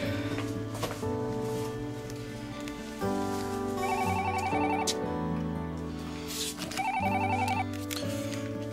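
A telephone rings in a house, sounding as a repeated electronic ringtone melody with a few bright, higher trilling bursts, fairly clear and steady with no voices over it.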